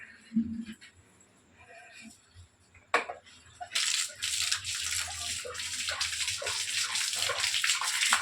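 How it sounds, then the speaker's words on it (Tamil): Water splashed and sprinkled onto the ground before drawing a kolam at night, starting with faint clinks and quiet moments, then a loud continuous spattering hiss that builds to the end. "மொதல் தண்ணியை நம்ம தொளிச்சிக்கலாம்"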